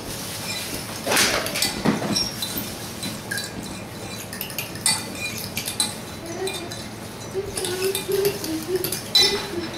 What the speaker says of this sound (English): Here's a little bit of sugar to activate the yeast. You just stir that right up